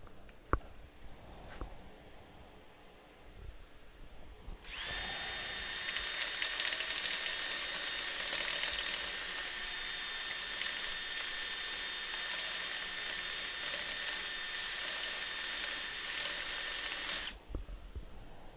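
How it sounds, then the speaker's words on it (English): An elm burr spins on a wood lathe while being sanded, a close, steady whirring whine with a high ringing edge that starts abruptly, holds for about thirteen seconds, then cuts off, with no talking. "Now we can just see if we can sand that even more carefully."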